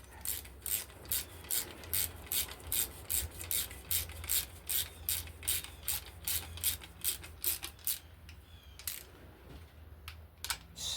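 A ratchet wrench clicks in quick, regular bursts while snugging bolts during the reassembly of an old 318 engine, each stroke a crisp metallic rattle, close and clear, pausing briefly near the end before resuming.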